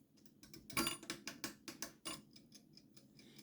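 An oven's control is switched on and set to preheat for baking pizza, giving a quick series of sharp mechanical clicks and ratcheting ticks, close and fairly quiet, with no voices.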